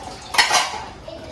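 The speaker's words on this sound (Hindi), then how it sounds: "बर्तन धोते हैं, चूल्हा साफ करते हैं," Dishes, pots and pans clatter in a household kitchen during washing, a short cluster of near metallic clinks and scrapes that rises for about half a second and then fades under a faint background.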